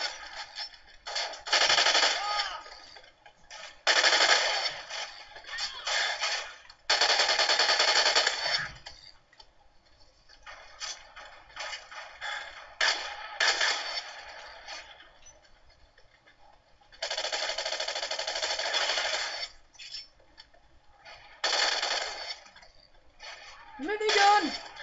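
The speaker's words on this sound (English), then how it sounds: "Minigun!" Minigun fire in the Call of Duty Ghosts video game, several long roaring bursts with short gaps, loud and up close, with gameplay effects between bursts.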